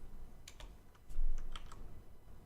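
Scattered keystrokes tap on a computer keyboard while HTML code is written for a web page, a handful of light, close clicks spaced irregularly over a low steady room hum.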